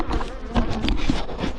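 Honeybees from a failed-queen colony with dwindling numbers buzz densely and steadily up close, a busy hive drone with no talk.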